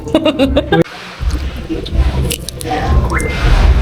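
Close-mic chewing of food with onion, soft wet squishing bites and mastication going on steadily, after a brief burst of voice at the start.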